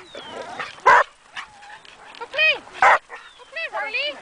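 Corgi and other dogs barking in short bursts close by, with two loud sharp barks standing out between other yips and excited voices in the background.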